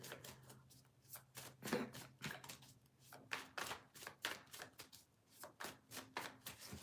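Playing cards being shuffled repeatedly, a quick run of crisp riffling flutters and taps, close and fairly quiet.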